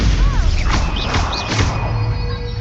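A Stupefy spell strikes in Hogwarts Legacy with a sharp crashing impact, followed by sweeping magical swooshes and rising chirps over a dense, steady game soundscape.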